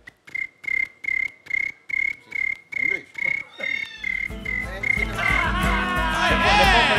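A man imitates a cricket with his voice, giving evenly spaced, shrill chirping pulses for several seconds before the sound breaks into noisier, blended vocal sounds.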